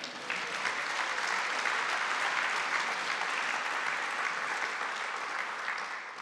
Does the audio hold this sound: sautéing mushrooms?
no